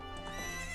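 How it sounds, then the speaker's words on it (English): Epona the horse in the video game Ocarina of Time gives a brief, loud whinny over a quick patter of hoofbeats, with game music underneath. "That's how you know Epona's a fine horse."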